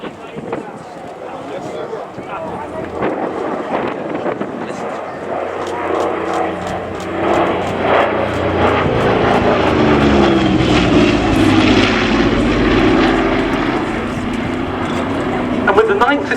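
A Douglas A-26C Invader piston-engined bomber flies past at the Duxford Battle of Britain airshow. Its propeller drone builds to a loud, sustained roar, with a commentator talking over the engines the whole time.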